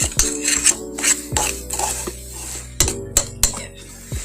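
A utensil stirs vegan enchilada filling in a bowl, giving repeated clinks and scrapes against the dish in an uneven rhythm, close and fairly loud, with no talking.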